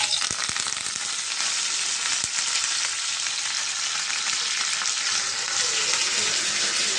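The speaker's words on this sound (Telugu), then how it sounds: "ఇదిగోండి తాలింపు సరిపడా ఎల్లిపాయ, జీలకర్ర, ఆవాలు," Garlic, cumin, mustard seeds and dried red chillies sizzle in three to four spoons of hot oil, a dense, loud, continuous crackle with a few sharp pops near the start.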